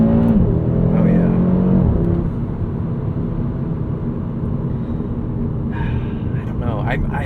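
Inside a 2022 Audi RS 3 with a seven-speed dual-clutch gearbox, the engine note climbs loudly and then drops with a shift, settling into a steady rumble before rising again near the end; a brief breath or gasp is audible.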